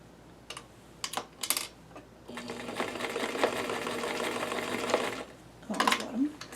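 Sewing machine stitching fabric: a few short whirring bursts, then a sustained run of fast, even stitching lasting about three seconds, followed by another brief burst, close and clear in a quiet room.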